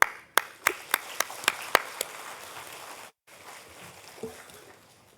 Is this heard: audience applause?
yes